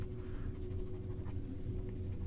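Watercolor pencil strokes rubbing back and forth on paper, a steady close-up scratchy scraping that carries on for a couple of seconds with no talking.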